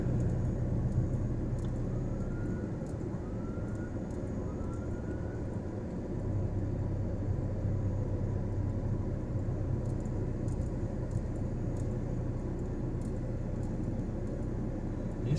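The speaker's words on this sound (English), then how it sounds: "Traffic is tied up here for some reason." Steady road rumble and passing car traffic heard from inside a vehicle, a continuous low wash of tyre and engine noise with no talking.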